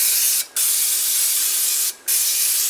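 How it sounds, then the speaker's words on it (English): Cooking spray hisses from an aerosol can onto pickle-brined chicken strips in an air fryer basket, three steady loud bursts separated by two short pauses. "I'm going to give a spray on the top."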